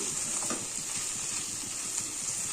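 Okra fries in a pan with a steady hissing sizzle and soft stirring scrapes at low to mid level, uninterrupted by speech.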